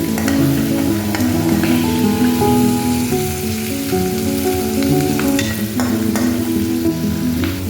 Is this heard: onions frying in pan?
yes